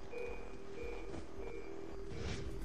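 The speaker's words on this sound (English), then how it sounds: "Beeps indicate distance." A locator in the video game Far Cry 3 gives a series of short, evenly spaced electronic beeps, repeating steadily over a low engine-like rumble and other game noise.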